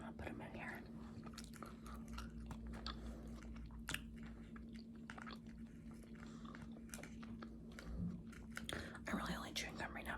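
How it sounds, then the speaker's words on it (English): Gum being chewed close to the microphone gives soft, steady, moist clicks and smacks over a faint constant hum, with a few faint whispered words, in a quiet setting. "I'm really only chewing gum right now"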